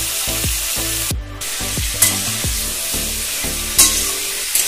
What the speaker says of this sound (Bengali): আমটাই তেলের মধ্যে ভালো করে একটু ফ্রাই করে নেব।